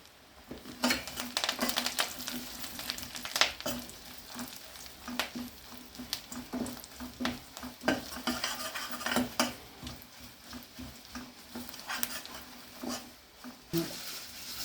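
Steady sizzling of tempering spices with asafoetida frying in hot oil, with scattered sharp crackles and the clink of a utensil against the pan throughout.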